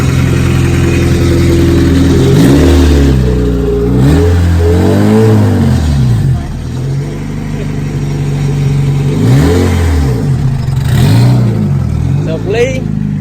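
A turbocharged Honda Integra GSR with a B18C1 engine revs repeatedly, its pitch climbing and falling in bursts over a rough idle, with a rattling exhaust; loud and close.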